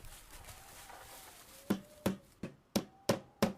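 Hammer blows prying barricade boards loose in the zombie survival game Project Zomboid: six sharp, evenly spaced knocks in the second half, each with a short ring, after a quiet start.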